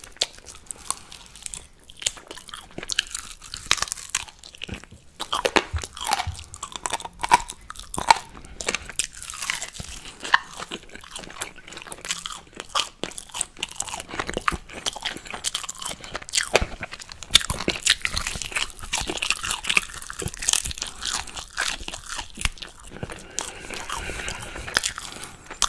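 Crispy air-fried potato slices are bitten and chewed close to the mic, giving repeated loud, uneven crunches and crackles over a long stretch with brief pauses between bites and no talk.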